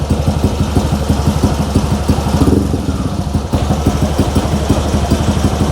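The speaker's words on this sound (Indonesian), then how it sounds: "Langsung nyala teman-teman, tanpa harus digas, sekali pencet langsung nyala." A bored-up motorcycle engine running on a lithium battery idles loud and close, a steady fast thumping putter with a brief swell partway through, alone without talk.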